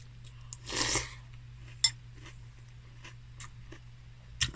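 Someone chews a mouthful of sweet, crunchy chocolate-flavoured breakfast cereal up close: a longer burst of crunching, then a few sharp isolated crunches spaced seconds apart, all fairly quiet over a steady low background hum, with no talking.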